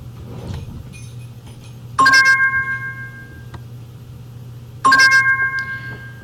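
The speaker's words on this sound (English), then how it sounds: "if they get them correct, they'll hear the bell" An educational vocabulary sorting game plays a bright electronic bell chime twice, each a sharp ringing strike that decays over about a second, separated by quiet background hum.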